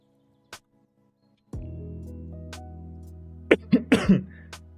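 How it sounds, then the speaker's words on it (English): A person with a lingering cough coughs sharply several times in a quick cluster near a microphone, following a steady low hum, with a faint earlier click. "I still have a little bit of a cough."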